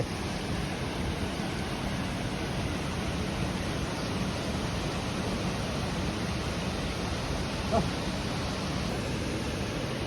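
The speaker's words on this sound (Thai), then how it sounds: "น้ำท่านครับเป็นน้ำตกครับ" Steady broadband roar of Tat Champi waterfall in Laos, a continuous rushing wash of falling water heard close and loud throughout, with no clear voices above it.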